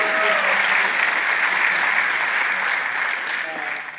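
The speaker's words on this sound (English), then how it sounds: "So maybe you can all clap for that" Town hall crowd in Meridian, Idaho claps for a congressman, a broad, steady burst of applause that tapers slightly toward the end, with faint voices beneath.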